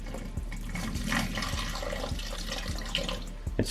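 Water poured from above into a centipede enclosure's water dish, a soft, close trickle and splatter with small drips, faint and continuous for a few seconds.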